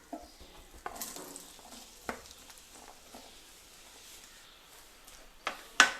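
Chopped vegetable pieces are dropped into hot vegetable oil in a pan for an Onam sweet curry, giving a soft, close sizzle with light stirring scrapes and a few clinks.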